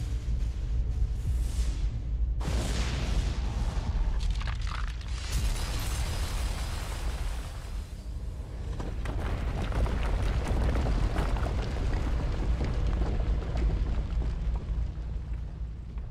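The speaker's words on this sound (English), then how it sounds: "Thunder echoes from the mountaintops as great sheets of ice and snow tumble down the slopes." Thunderous booming echoes from mountaintops as sheets of ice and snow tumble down the slopes in the video game Pillars of Eternity, heavy rumbling impacts building into a sustained roaring wash that keeps up from start to finish.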